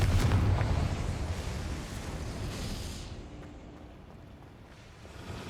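The Confringo explosive spell in Hogwarts Legacy sets off a loud, booming burst that rumbles low and then fades into a long roaring tail that dies away slowly.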